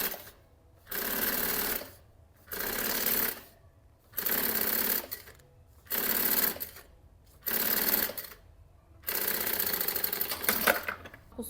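A sewing machine stitches fabric for a maternity bag in five separate runs of steady, fairly close buzzing, each lasting about a second, with short pauses between them. A longer continuous burst of stitching closes the sequence.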